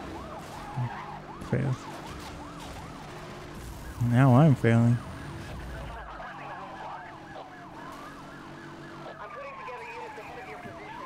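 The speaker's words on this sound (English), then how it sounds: "I heard a siren." In the Need for Speed racing game, a police siren wails in rising and falling sweeps across the whole stretch, with engine noise, a few louder bursts and someone talking over it.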